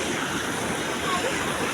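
A mountain stream flows in a steady broadband rush of water, moderately loud and continuous, with a voice speaking briefly over it.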